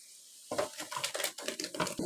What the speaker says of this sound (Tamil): இதில் நம்ம தக்காளியை ஊற்றிடலாம்